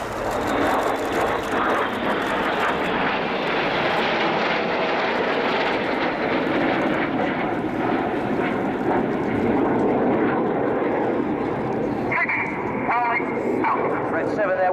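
RAF Red Arrows synchro pair jets roaring past upside down in close formation at an air show, a loud sustained jet rush that swells and fades, with a commentator talking over it throughout.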